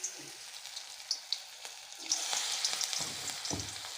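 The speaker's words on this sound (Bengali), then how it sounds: "এই যে দেখো তেলে ছেড়ে দিচ্ছি" Mustard-flower pakoras frying in oil: a quiet, crackling sizzle with scattered small pops, rising into a fuller, busier spatter partway through as more batter hits the pan.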